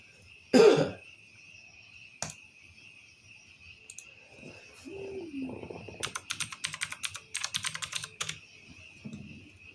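Computer keyboard typing in bursts of rapid clacking keystrokes, close and fairly loud, after a cough and throat clearing early on in a quiet room.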